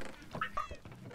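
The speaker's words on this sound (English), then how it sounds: "Four chickens! Four chickens!" Minecraft chickens clucking in a short burst of two or three quick, slightly honky calls, moderately loud over faint background noise, with no speech.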